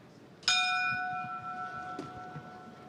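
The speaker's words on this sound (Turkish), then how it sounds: "Zil çaldı ve 10 roundluk karşılaşmanın ilk roundu başladı." A single bright boxing round bell strike rings out at a professional boxing match and its clear tone lingers, slowly fading, over low crowd noise.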